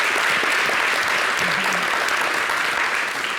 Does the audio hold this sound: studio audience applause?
yes